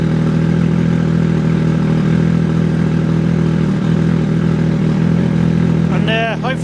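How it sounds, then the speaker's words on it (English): A Triumph Speed Triple RS motorcycle engine runs at a steady, close idle, a loud continuous low rumble throughout, with a brief chirping electronic squeal near the end. "Let's start the bike up."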